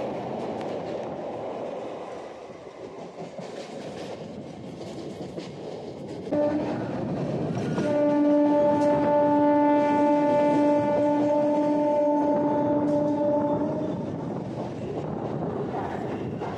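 A Howrah–Bandel local train rumbles and clatters across the Balikhal railway bridge at close range, with a sustained horn sounding for several seconds partway through.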